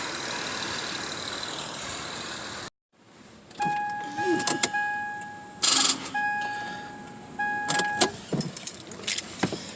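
Truck with a dead battery being jump started: after a brief silence, keys jangle and dash chimes ring repeatedly as the key is turned, with clicks and rattles but no clear engine start.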